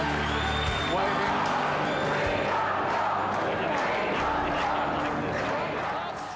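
Large election-night crowd in the national tally room in Canberra, a dense roar of cheering and chatter that fills the space steadily throughout, with a commentator's voice talking over it.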